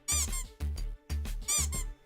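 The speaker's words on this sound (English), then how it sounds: "you're going to hear a lot of squeaking here" A game character in The Adventure Pals bumping into walls gives four cartoonish rubbery squeaks in a quick, even rhythm, each one loud, bright and close, with nothing else heard.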